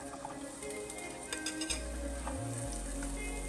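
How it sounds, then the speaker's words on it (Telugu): Onions and green chillies fry in a spoonful of oil in a pan, giving a steady soft sizzle throughout with a few brief clinks, and a low hum rising partway through, with no voices. "దోరగా వేయించుకోవాలి"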